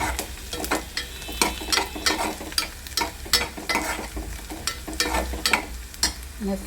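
Cumin and whole garlic fry in hot oil with a constant sizzle, while a spoon stirs and scrapes the pan in a regular, repeated rhythm.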